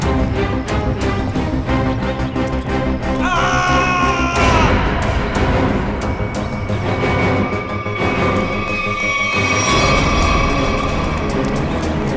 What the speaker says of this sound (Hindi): ये आवाज, ये चीखने की आवाज कहाँ से?